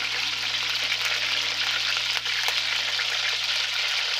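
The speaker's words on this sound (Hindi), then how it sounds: "अब इसको हम फ्राई कर लेंगे अच्छे तरीके से।" Chicken pieces fry with garlic-ginger paste in a pot for white chicken korma, giving a dense, even, close sizzle that holds steady throughout without any voices.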